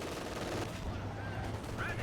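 MG34 machine gun fire in Company of Heroes 2, a real-time strategy battle: a steady, rattling stream of shots at moderate distance runs through the whole moment, with a commentator talking over it.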